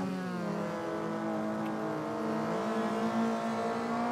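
A car engine in the CarX Street street-racing video game drones steadily behind the player, its pitch rising and falling with revs, fairly quiet and continuous with no talk over it.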